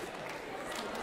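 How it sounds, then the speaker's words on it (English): At an international food and culture fair, dance participants turn around and clap together, producing a dense, steady wash of clapping and crowd noise throughout. "One step, turn around, and clap."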